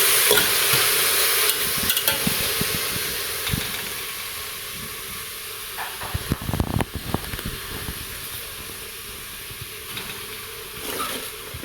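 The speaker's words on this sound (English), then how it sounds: "Actually give it a stir before you add in the rest." Ackee and saltfish being stirred in a pot on the stove, with a steady sizzle and steamy hiss beneath clattering spoon scrapes that bunch up midway, no voices present.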